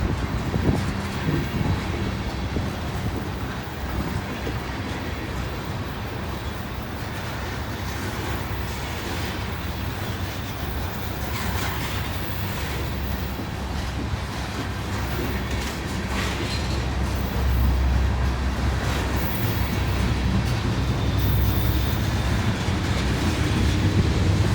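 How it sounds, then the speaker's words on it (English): A heavy train hauled up a hill with sand on the rails passes close by as a continuous, loud rumble and grinding roar that swells slightly near the end, with wind buffeting the microphone. "Is this a fabulous train or what?"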